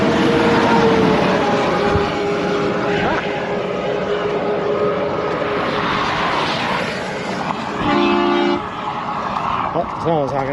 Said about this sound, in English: someone's honking up there